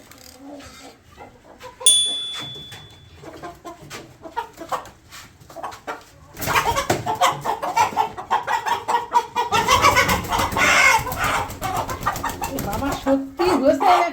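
Chickens clucking and squawking in a noisy flurry, growing louder midway, with people talking over the commotion.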